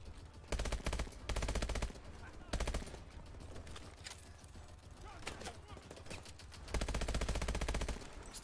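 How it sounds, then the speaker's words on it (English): Gunfire in the Call of Duty Advanced Warfare campaign: loud, sustained bursts of automatic weapon fire that start and stop abruptly, with quieter rattling stretches between the heavier volleys. "Stop shooting my friends!"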